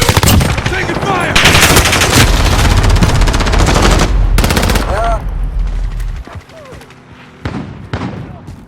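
Gunfire in Call of Duty Warzone comes as loud, rapid automatic bursts and heavy shots, dense for most of the stretch before thinning to scattered shots near the end, with game voice callouts mixed in.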